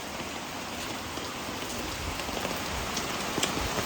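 Heavy rain pours steadily in Kerala, a dense continuous hiss of drops striking surfaces close by, with scattered louder drips and splashes standing out and the downpour swelling slightly toward the end.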